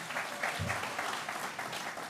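A large outdoor crowd at a celebration of new commuter rail service applauds steadily, a dense wash of clapping that holds evenly for a couple of seconds, fairly distant.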